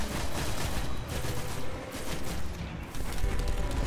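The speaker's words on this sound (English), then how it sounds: "Start shooting him now" Continuous rapid gunfire in the Destiny video game, a dense, loud barrage of overlapping shots with brief dips, heard alone without talk.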